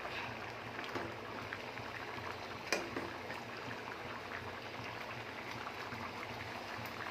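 Paneer butter masala simmering in a pan with fried paneer pieces, a faint steady bubbling with a single small clink partway through, no voices.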